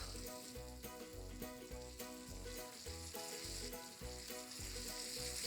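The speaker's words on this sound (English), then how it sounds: "as this is being fried properly here, we will also add the green peas" Potatoes fry in masala in a pan with steady, continuous sizzling and crackling, occasionally stirred, close and moderately loud, with no talking.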